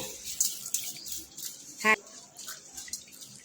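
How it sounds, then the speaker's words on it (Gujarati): Lentils are washed in water in a small container, water sloshing and trickling with soft splashes and a brief tap-like clink amid quiet kitchen sounds. "હવે એમાં થોડું પાણી એડ કરીને આપણે એને ધોઈ લઈશું સારી રીતે"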